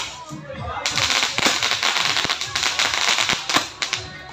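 A string of firecrackers bursts at a home wedding celebration, giving rapid, loud crackling pops in an irregular stream, with voices in the background.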